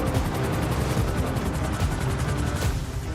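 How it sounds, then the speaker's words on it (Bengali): Loud, steady rotor chop from a helicopter overhead in a battle-royale shooter video game fills the whole moment with dense, rhythmic noise. "আরে উপরে হেলিকপ্টার"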